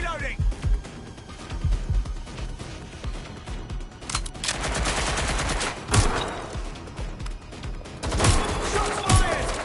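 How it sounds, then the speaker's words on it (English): Bursts of gunfire ring out in Watch Dogs Legion, with sharp shots and rapid volleys clustered in loud spurts against a busy game soundscape while a voice talks over them. "Shots fired"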